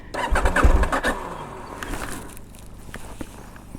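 A 2023 KTM 890 Adventure motorcycle struggling to start, a close, rough churning crank of the starter and engine for about a second and a half, then it fades away into low background noise without catching.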